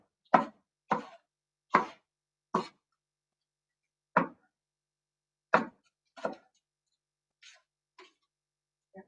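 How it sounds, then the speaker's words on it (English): Knife slicing through fruit on a cutting board, a series of about ten crisp, separate chops in an irregular rhythm, close and clear, the last few softer. "let me cut my slices"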